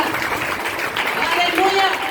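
A church congregation claps hands in a dense, steady patter of applause mixed with voices calling out, under continuous speech.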